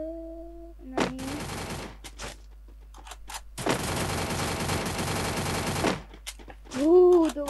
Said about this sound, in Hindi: गाइस फायरिंग हुई है और वहाँ पे बंदा भी है।